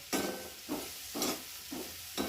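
Fried roti pieces are stirred and mixed in a pan, with five evenly spaced scraping strokes over a faint sizzle, close and fairly quiet.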